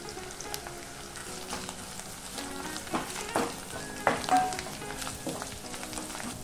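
Masala spices for a potato curry frying in hot oil with ginger, garlic and turmeric, a soft steady sizzle with a few louder stirring scrapes in the middle, close and without talking.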